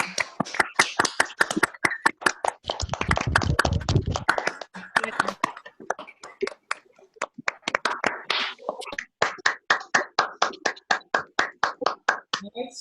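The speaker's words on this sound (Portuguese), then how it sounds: "fazer uma salva de palmas para o professor Aldair" Scattered applause for a professor at the end of an online forensic pathology lecture, with separate hand claps from a few participants in bursts and uneven rhythms, some picked up by microphones and briefly overlapping.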